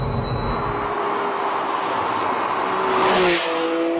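A sports car engine accelerates hard, its tone rising steadily as the revs climb, loud and close with no talking.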